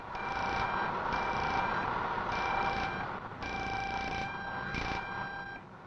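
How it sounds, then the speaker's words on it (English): A holiday detector testing bitumen pipeline wrapping on a 1968 construction site beeps in repeated electronic pulses, several bursts with short gaps, heard over a loud constant hum of nearby machinery. "The holiday detector quickly finds out any faults which may have developed in the wrapping during handling."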